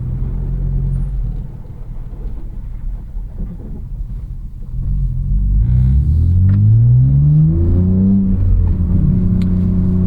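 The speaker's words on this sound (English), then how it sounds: "That 3-liter S58 Inline 6 engine, turbocharged, making 473 horsepower, 406 pound-feet of twist." A 2023 BMW M3 G80 with a manual gearbox and turbocharged 3-liter S58 inline-six revs up steadily inside the car, a deep droning rumble climbing in pitch through the gears, loud and close with no talk.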